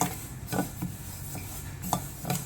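Sesame seeds stirred and roasted in a pan for stuffed potato mirchi bajji, with a spoon scraping and tapping the pan in a few separate strokes over a low, steady background hum.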